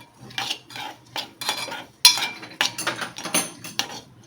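A spoon or spatula scrapes and clinks around a pan while vada pav potato filling with grated coconut is stirred, with a quick irregular rhythm of metallic taps and scrapes up close and no talking.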